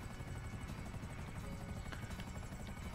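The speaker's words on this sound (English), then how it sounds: "let me just put the helicopter down right here" A helicopter setting down in the GTA 5 Online video game, its rotor chop a steady, even thrum with no voice over it.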